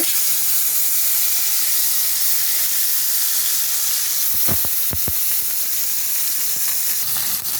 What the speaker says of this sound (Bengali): কড়াইতে দিয়ে ভালো করে ভেজে নেবো। তেলটা গরম হয়ে গেছে,